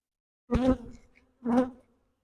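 Honeybees buzzing around an open hive, two short close buzzing passes about a second apart against silence.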